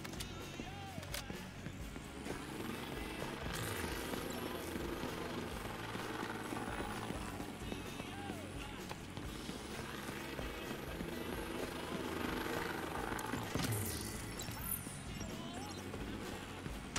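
An enemy drone in The Division 2 video game hovers overhead in a steady whirring buzz that lasts throughout, mixed with game sounds and intermittent player voices.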